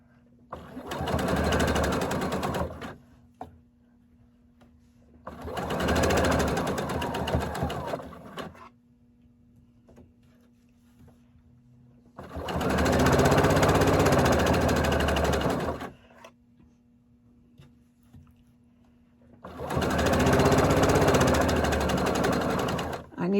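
Four bursts of a sewing machine running as it stitches the seam of a fleece hat, each run lasting a few seconds with quiet pauses between, close and steady, with a low hum in the gaps.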